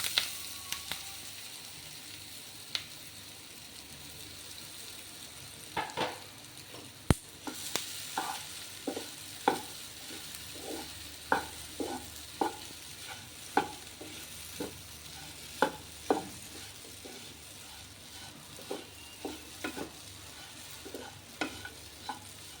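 Usili, a crumbled lentil mixture for kozhukattai, fries gently in a pan under a low sizzle, with sharp, regular scrapes of a spatula stirring it over about twenty seconds.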